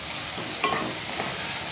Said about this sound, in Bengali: এটাকে আমি খুব ভালোভাবে এখন কষিয়ে নিচ্ছি যতক্ষণ না পর্যন্ত কাঁচা গন্ধটা মশলা যাচ্ছে।